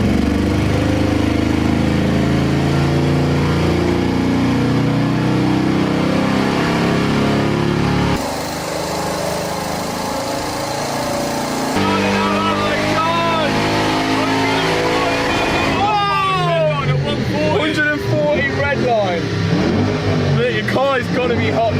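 A stock Audi RS6 runs on a dyno on a humid day, its engine droning loudly and steadily, then easing off and rising again into a higher, sweeping rev near the end, with voices talking over it.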